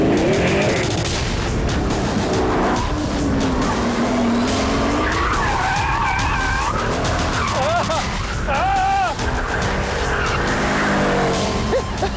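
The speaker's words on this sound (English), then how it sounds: "will now want to see me sliding the back end around. So, here goes." Pagani Huayra in the Assetto Corsa racing game sliding its back end around, with repeated loud tire squeals and skids over a revving engine, continuous and close throughout.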